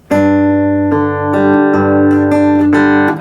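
Electric guitar playing the pre-chorus of a song, with sustained ringing chords that change every second or so, close, clear and alone.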